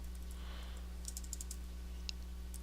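Quick light keystrokes on a computer keyboard tap in short bursts over a constant low electrical hum, faint and close, with no voices.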